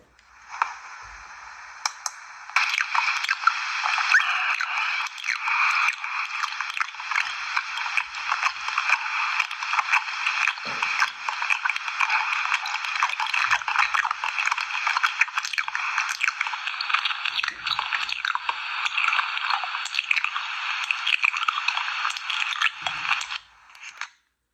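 Close, wet chewing and crunching of food at lunch in a school cafeteria, a continuous run of squishy bites and mouth noises lasting the whole stretch at moderate loudness, with no voices.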